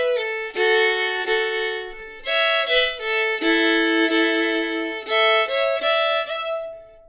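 Fiddle playing the tune Rubber Dolly with double stops: bright, bowed notes in a lively repeating melody, two strings ringing together, close and clear with no talk.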